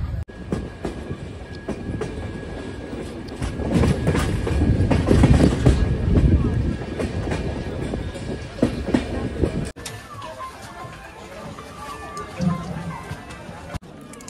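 A train runs into New Farakka station with a steady rumbling roll and rhythmic wheel clatter that swells, then eases off as it slows, while a person talks over it.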